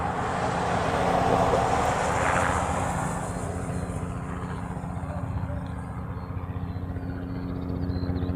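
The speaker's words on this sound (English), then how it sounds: "Asia Pacific, it's a 757. It's taxiing down to the Reef Runway." A Boeing 757 airliner taxiing toward the Reef Runway: a steady, broad jet engine rumble and whine at a distance, swelling slightly early and then holding, with a voice talking over it.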